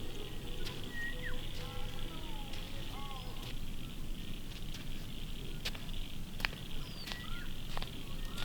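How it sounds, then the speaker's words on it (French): Small bees buzz around a garden in Australia, a soft continuous hum close by, mixed with scattered bird chirps and sharp little clicks. "On voit plein de petites abeilles un peu de partout."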